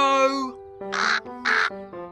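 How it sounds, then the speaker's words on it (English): A cartoon crow caws twice, two loud, harsh calls close by in quick succession, with a third call starting as the clip ends; a character's voice speaks just before the caws. "It's a crow."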